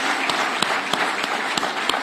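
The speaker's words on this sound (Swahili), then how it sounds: "Wapige makofi yao warembo jameni." A crowd gives steady applause to athletes at the opening of a sports plaza in Nairobi, a dense outdoor clapping wash with a few sharper individual claps standing out over about two seconds.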